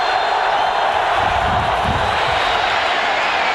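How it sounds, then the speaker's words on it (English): Football stadium crowd at a 1994 Raiders at Chiefs NFL game, on its feet and roaring in a steady, dense wash of cheering that holds loud and unbroken throughout. "Crowd on its feet again."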